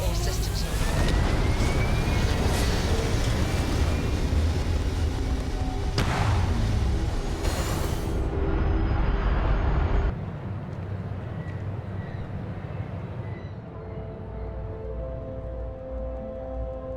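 Spaceship liftoff in the video game Starfield: a loud, sustained engine roar with rumbling low end and rising whine, a sharp burst near the middle, then dropping to a steadier, quieter hum as the ship climbs.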